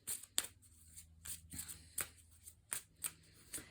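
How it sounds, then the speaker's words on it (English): Tarot cards being pulled and shuffled by hand, a run of crisp, close riffling snaps and flicks arriving in irregular bursts, with no talk over them. "I'm going to pull a few more cards."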